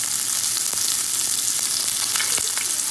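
Shrimp frying in very hot avocado oil give off a steady, dense sizzle with light crackling pops, continuous and close throughout, with no voices.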